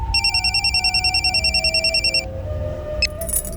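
A telephone rings with a rapid trilling electronic bell in a quick repeating pattern, then stops abruptly, followed by a brief click.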